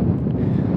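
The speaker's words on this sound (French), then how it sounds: "Il y a tellement de vent" Strong wind buffets the microphone on the Royal St George's golf course during the British Open, a loud, continuous low rumbling roar for under a second.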